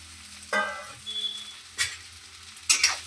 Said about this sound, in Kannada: ನೆಕ್ಸ್ಟು ಬೆಂಡೆಕಾಯಿ ಹುರಿದಿಟ್ಕೊಂಡಿರೋದನ್ನ ಆ್ಯಡ್ ಮಾಡ್ತಾವಳೆ